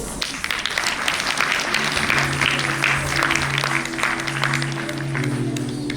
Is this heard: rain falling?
no